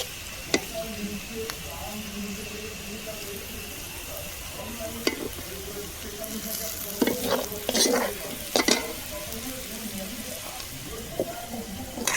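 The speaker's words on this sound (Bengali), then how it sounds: "তো চলো এখন পাস্তাটা আমি একটু ভেজে নিই" Boiled pasta fries in a hot pan while being stirred, giving a steady sizzle broken by scraping and clattering stirring strokes that grow busier toward the end, heard up close.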